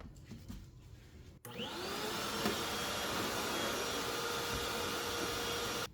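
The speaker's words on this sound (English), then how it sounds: "You can swap the hose to the back here and it act like a little blower." Bauer 6 gallon wet/dry vacuum switched on with its hose moved to the back port to work as a blower, a sudden start-up then a steady, loud whirring roar that holds evenly until it cuts off.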